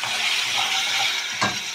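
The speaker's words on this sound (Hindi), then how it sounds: "अभी हमें इसे अच्छे से सेकना है" Garlic sizzles and is stirred in a hot pan while palak paneer is being cooked, a steady close frying hiss with a spoon scraping across the pan near the end.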